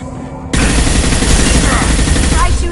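Dense, loud gunfire bursts out suddenly and keeps hammering in a sustained rattle during a Mass Effect firefight, close and overwhelming, with scattered impacts layered in.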